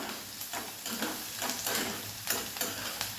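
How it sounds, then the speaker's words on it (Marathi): Onion sautés in a pan over a medium gas flame for baingan bharit, a steady close sizzle with soft rhythmic stirring strokes every half second or so, and no voices. "छान कांदा होतोय आपला मीडियम गॅसवरती आपल्याला छान असा परतून घ्यायचा आहे"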